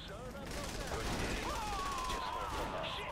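Gunfire crackles in Saints Row: The Third, rapid shots mixed with game effects and a rising whine, fairly loud and continuous, while voices talk over it.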